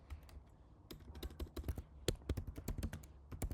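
Computer keyboard typing in quick irregular bursts of soft key clicks, close and fairly quiet, with short pauses between runs of keystrokes.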